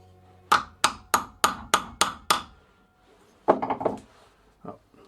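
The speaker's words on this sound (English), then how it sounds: "I'll give it a little tap with a hammer." A hammer taps a bicycle bottom bracket clamped in vise jaws with seven quick, evenly spaced metallic knocks, then a pause and a looser cluster of softer hits, close and crisp with no talking.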